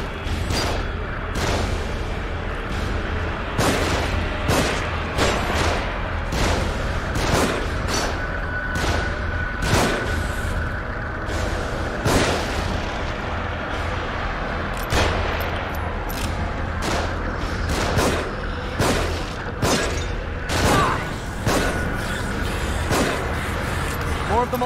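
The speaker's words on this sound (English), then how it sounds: "They're shooting from above." Gunfire in The Evil Within video game crackles in sharp, repeated bursts from enemies shooting from above, steady loud shots scattered throughout over a constant background rumble.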